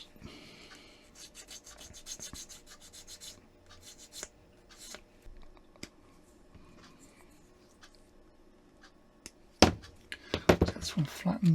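A gentle file rasps in short bursts against plastic model kit parts from an Airfix Ferret, quiet close scraping strokes with pauses, ending in a louder handling rustle; faint talk is present.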